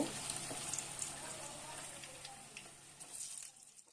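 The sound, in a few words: vegetables frying in a pan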